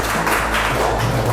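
Applause for a quiz winner at a school quiz show, a steady dense patter of clapping hands throughout, fairly loud and close, with no talk over it.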